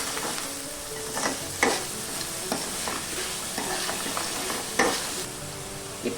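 Sauce for paneer fried rice sizzles steadily in a pan while a spatula stirs and scrapes through it, giving a few sharper clanks against the metal.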